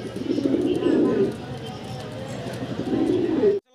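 Pigeons cooing at a pigeon sale, low throaty coos in two bursts near and clear, with faint crowd murmur behind and a few chirps from other birds.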